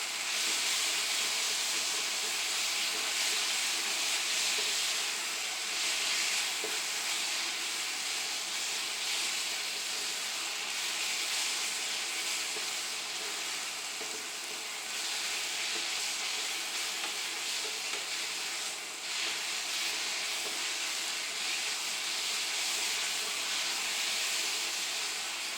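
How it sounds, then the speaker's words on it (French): Onions caramelizing in a pan for a pissaladière give off a steady, dense sizzle and hiss that holds loud and even throughout, with no talking. "voilà notre oignon qui commence à caraméliser"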